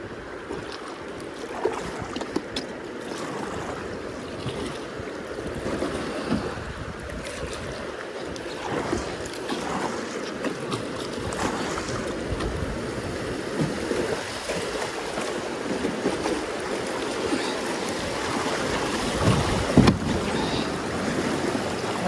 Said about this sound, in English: You can hear the sound of the falls, but you can't see them from here.